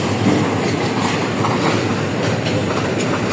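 Pakistan Railways' Green Line Express pulls into a station, its wheels clattering over the rail joints in a loud, continuous rumble with rhythmic clickety-clack and a faint squeal, heard up close with no voices.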